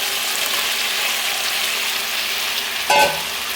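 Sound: fried potatoes added to sizzling spiced tomato masala in pan

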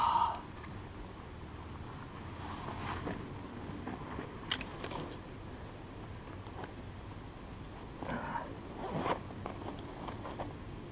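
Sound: zippers bouncing and rattling

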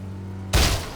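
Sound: gunfire in a video game

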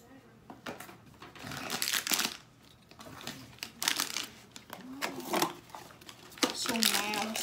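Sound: crinkling of blind box packaging being opened

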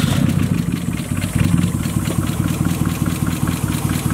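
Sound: car engine starting and idling with oil as coolant

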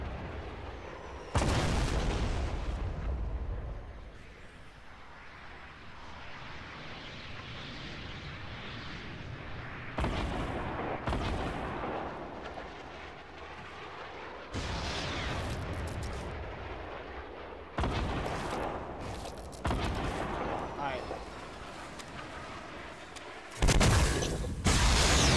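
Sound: guided rocket explosions in the Fortnite Battle Royale video game

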